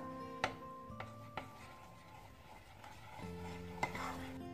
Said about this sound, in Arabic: Donc je mélange tout le beurre avec le chocolat.